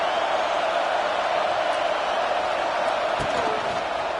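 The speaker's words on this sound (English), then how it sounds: "This crowd bringing the energy and noise early." A packed stadium crowd at an American football game gives off a dense, continuous roar, loud and steady with no distinct voices.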